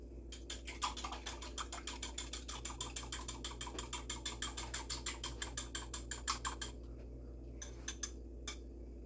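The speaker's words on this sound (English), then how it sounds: "I'm just going to whisk those before I put them into the mixture" A whisk beats eggs in a bowl, giving a quiet, rapid and steady run of light clicking strokes that breaks off into a few scattered taps near the end.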